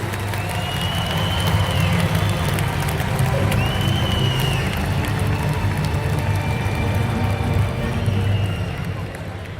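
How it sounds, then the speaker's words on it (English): A large crowd applauds and cheers steadily at the VEX IQ 2019 Worlds robotics parade of nations, a dense, continuous wash of clapping with a low rumble throughout and some whistles on top. "Let's give another round of applause for all of these nations."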